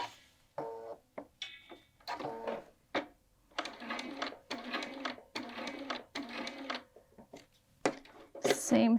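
A home sewing machine stitches a welt pocket in fabric with short bursts of rapid mechanical whirring, broken by pauses, while someone talks between and over the runs.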